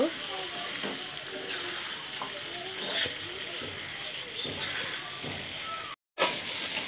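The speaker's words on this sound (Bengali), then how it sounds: "ব্রয়লারের চামড়ার মধ্যে মেলা তেল থাকে, তাই দিয়ে আমি ভাজতেছি এভাবে লাহে লাহে" Broiler chicken skin frying in its own rendered fat, a crackling sizzle with occasional stirring knocks and a short silent gap near the end.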